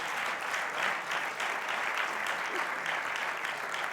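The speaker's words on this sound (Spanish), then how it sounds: "Un grande aplauso para aquí, para Miguel" An audience at an addiction recovery talk applauds a man called up to the stage, producing a loud, dense and sustained wall of clapping for the whole four seconds.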